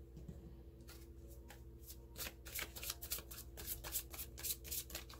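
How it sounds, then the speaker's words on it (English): Miracles Now oracle cards being shuffled by hand: quiet, close riffling and slapping bursts that grow busier and denser, repeated rapidly over several seconds, with no talking. "let's pull a Gabrielle Bernstein's Miracles Now Oracle card"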